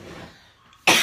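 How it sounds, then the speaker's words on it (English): A single loud, sharp cough bursts out near the end, following a quieter stretch of faint throat noise and room sound from a woman with a tickly throat. "I was feeling some coughing coming on"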